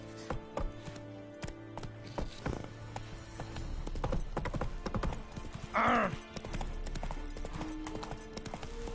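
Hooves clip-clop at a steady trot as a horse moves along in The Witcher 3, with a brief burst of another sound near the middle and a low steady game background underneath.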